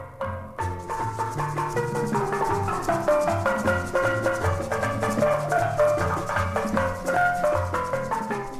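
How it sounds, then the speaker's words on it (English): A U.S. Navy steel band plays Stars and Stripes Forever on steel pan drums, a steady bright march with continuous rhythmic strikes and a bass line, heard at moderate level with no talking. "That is the sound of guys in white Navy uniforms playing Stars and Stripes Forever on steel pan drums"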